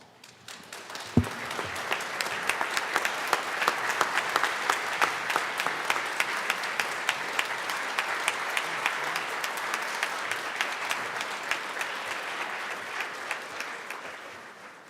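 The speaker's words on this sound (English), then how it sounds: "How about another round of applause for Chairman Baker?" Applause fills a state legislative chamber, the Colorado House, swelling quickly from a single sharp clap into a dense, moderately distant round of clapping that holds steady, then thins out toward the end.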